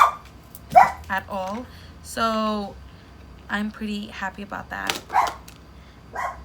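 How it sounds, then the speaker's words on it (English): A pet dog barking indoors at home, a few short yips and barks scattered under someone talking nearby at close range. "That's my dog"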